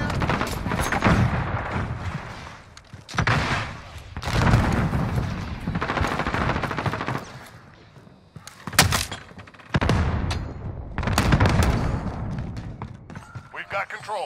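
Gunfire in Modern Warfare: loud close bursts of rifle and automatic fire with heavy booms, in repeated volleys separated by short gaps, with voices heard between the shots.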